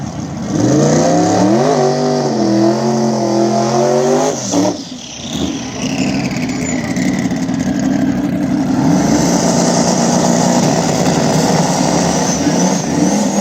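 Small tire drag race cars, a Camaro against the Bad Apple, launching with loud revving engines that climb through gears, a brief dip, then sustained roaring acceleration fading down the track.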